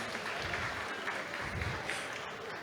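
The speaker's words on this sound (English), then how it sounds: "A round of applause, please." An audience at a conference for African women in environment, health and safety applauds a speaker, with steady, dense clapping filling the room throughout at moderate loudness.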